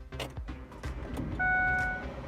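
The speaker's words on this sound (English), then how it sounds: "Thankfully this car is starting." A car is started from inside the cabin: keys rattle and clunk, then a tonal whir as the engine cranks and catches, rising to a loud, steady running sound, with no speech.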